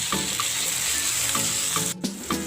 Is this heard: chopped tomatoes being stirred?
yes